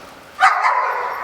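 A single sharp dog bark sounds at a crowded convention panel, close and fairly loud, followed by a brief trailing whine against quiet room noise.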